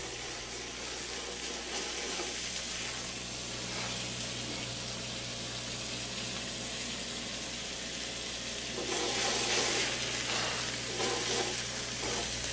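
Marinated grouper fillet searing hot in a pan, a steady close sizzle with a low hum underneath, swelling louder near the end.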